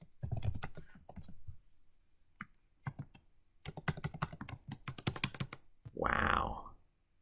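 Rapid clicking keystrokes on a computer keyboard come in close bursts, with a speaker talking between and over the typing.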